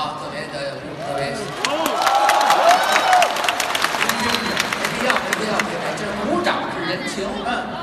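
At a xiangsheng crosstalk comedy show in Nanjing, a crowd's scattered clapping rises into moderate applause, while a performer keeps talking loudly over it.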